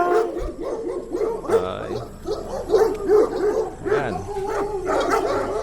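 Dog yipping and barking in short bursts at a pet market, fairly close and mixed with people talking throughout.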